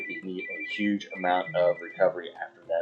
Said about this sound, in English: Pardon my phone interruption. Didn't turn my ringer off.